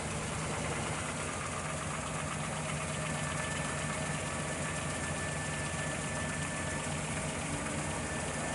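The original numbers-matching V8 of a 1967 Pontiac GTO idles steadily, a deep, continuous rumble with a slight knock and vibration, heard close and alone without any speech.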